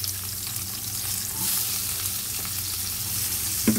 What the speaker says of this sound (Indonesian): Lalu kita tumis bawang bombaynya ya teman-teman.